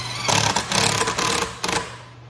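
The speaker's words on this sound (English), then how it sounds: "So go ahead and run 3 screws into it." Power drill driving three screws into a residential sign post backer, with a steady mid-pitched motor whir that starts and stops in short bursts, close and fairly loud.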